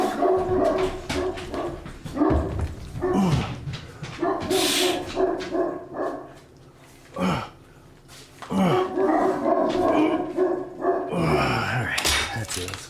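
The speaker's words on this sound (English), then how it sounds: "Let's go see what these dogs are so excited about." Several indoor dogs bark excitedly in repeated bursts, mixed with yips and whimpers, close and loud, with a brief lull midway before the barking picks up again.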